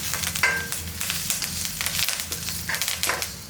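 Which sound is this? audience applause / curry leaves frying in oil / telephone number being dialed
curry leaves frying in oil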